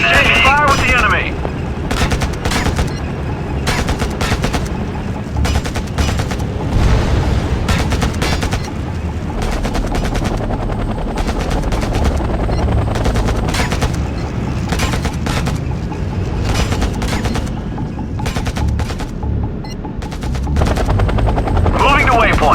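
Gunfire exchange in the video game Act of War: Direct Action, with steady bursts and booms under a continuous helicopter rotor drone, loud and dense throughout, with game voices speaking at times.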